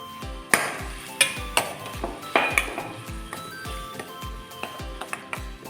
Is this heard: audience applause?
no